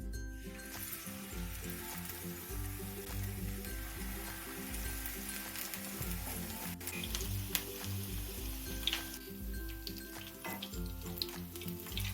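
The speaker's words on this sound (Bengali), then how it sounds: "পকোড়াগুলো লাল লাল করে ভেজে নেব" Batter-coated jute leaf pakoras fry in mustard oil, a steady low bubbling sizzle that holds at a moderate, even level throughout.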